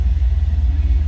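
A 1975 MG MGB engine idles with a steady low rumble and pulsing throb, the revs settling lower as the choke is pushed in; close and fairly loud, no speech over it.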